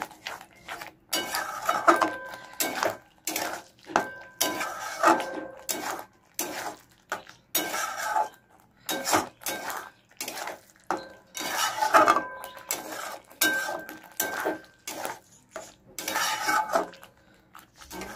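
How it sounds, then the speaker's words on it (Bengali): A utensil scrapes and clanks rhythmically against a pan as spices are stir-fried for chicken kasha, with repeated close, loud metallic strokes and brief pauses, and no talking. "এবার মশলাগুলোকে নিয়ে ভালো করে কষাতে হবে।"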